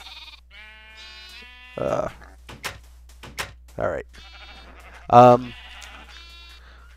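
Several short Minecraft sheep bleats ring out at intervals among squeaky game sound effects, with a brief spoken word partway through.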